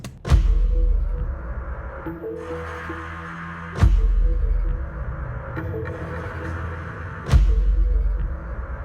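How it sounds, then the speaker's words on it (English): A full drum kit plays a slow, steady pattern with big booming hits every few seconds, cymbal wash and ringing tones sustained between them. "all the drums together in the intro sound like this"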